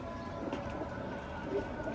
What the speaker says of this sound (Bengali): কবুতরগুলো এগুলো এখন ট্রেনিংয়ে ছাড়তেছি